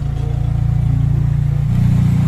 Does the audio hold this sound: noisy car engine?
yes